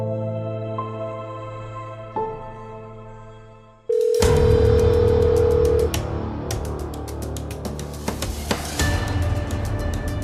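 Telephone ringing tone of an unanswered call, steady pulsed tones repeating for a few seconds before an abrupt shift into louder dramatic music and clattering noise.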